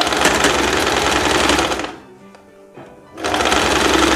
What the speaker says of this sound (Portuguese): Agora você vai passar uma costura reta, normal, para fechar aqui